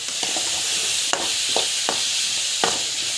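Tomato and chili powder mixture sautéing in a pan, with a steady close sizzle broken by several sharp scrapes of a spoon stirring through it, no talk.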